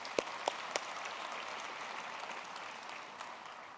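Distant crowd applause at a university graduation ceremony, a steady wash of many hands clapping with a few sharper claps near the start.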